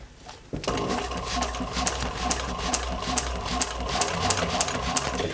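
A sewing machine stitches automotive upholstery foam, kicking in suddenly after a quiet moment and running steadily with a fast, rhythmic needle clatter and sharp periodic ticks, close and loud, without speech.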